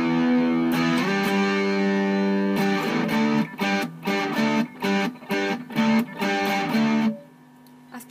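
Distorted electric guitar plays power chords from a song, first held sustained chords and then a run of choppy, rhythmic strums with short gaps, loud and alone, ending on a softer ringing note.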